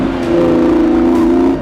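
A Lamborghini supercar accelerates hard on a race track, a loud, steady engine drone holding one rising note for just under two seconds with no talk over it.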